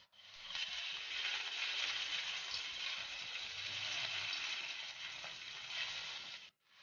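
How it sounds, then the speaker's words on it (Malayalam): Vegetables fry in oil in a pan, giving a steady bright sizzle that holds for several seconds before cutting off abruptly near the end, with no voices. "ആദ്യം ഞാനിപ്പോൾ വെജിറ്റബിൾസ് ആണ് പൊരിച്ചെടുക്കുന്നത്."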